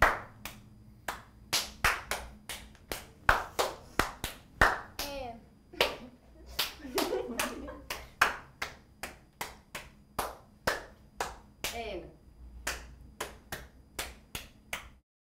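Single sharp claps passed one after another around a circle in a group icebreaker game, a steady irregular rhythm of close, crisp hand claps with occasional children's voices and laughter between them.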